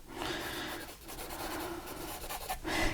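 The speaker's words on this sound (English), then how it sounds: "hold your pencil on the side like this and it'll give you bigger marks" A pencil held on its side shades in a frog drawing on paper, a steady close scratching rub that dips briefly and then resumes, with no talk.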